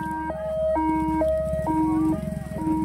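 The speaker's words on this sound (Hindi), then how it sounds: "कचरा गाड़ी" Garbage collection truck playing its looping electronic jingle, a loud, clear repeating melody of alternating high and low notes over a low engine rumble, close by, with no talking.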